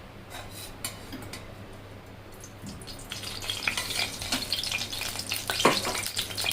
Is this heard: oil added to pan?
yes